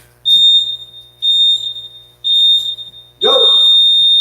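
An electronic round timer buzzer sounds in a martial arts class, four loud, shrill sustained beeps of about a second each with short gaps, a brief voice breaking in at the last one.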